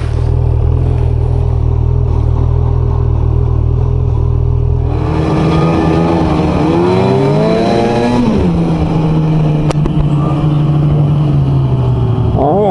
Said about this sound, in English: Couple little skidoos from our hometown.